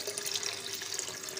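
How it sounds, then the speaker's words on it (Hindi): Water is poured from a bowl into a cooking pot, a short continuous splashing stream at close range. "अब एक बाउल में जो हमने 1 किलो पानी अलग रखा हुआ था, तो वो पानी हमने ऐड करना है पतीले में"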